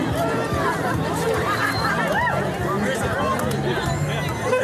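Thousands of people gathered outdoors at a Coolock rally create a dense, continuous babble of overlapping voices and calls, loud and close throughout, with occasional laughter.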